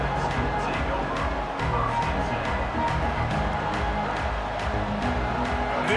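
A large football stadium crowd at a Texas A&M game roars steadily as a dense, continuous wash of noise, loud and unbroken throughout.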